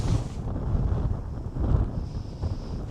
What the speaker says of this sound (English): it's very windy out there